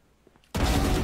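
After a quiet moment, a sudden loud burst of gunfire from a Vandal rifle erupts and sustains, harsh and noisy like rapid shots in a game.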